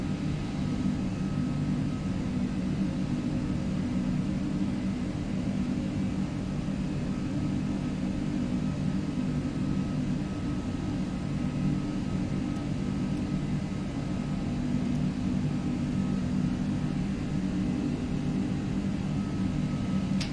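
Steady, loud roar of Aerosoft A330 airliner engines at climb power in the Prepar3D flight simulator, a continuous broadband rumble with a faint whine running unchanged throughout, no voices.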